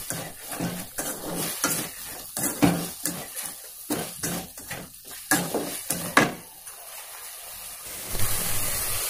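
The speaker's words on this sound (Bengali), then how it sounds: "এবার ওর মধ্যে আগে থেকে ভেজে রাখা পটলগুলো আমি দিয়ে দেব, দিয়ে ভালোভাবে নাড়াচাড়া করে" Previously fried pointed gourd is stirred in a pan, a close run of sharp, rhythmic scraping and clinking strokes over a sizzle, slowing near the end with no talking.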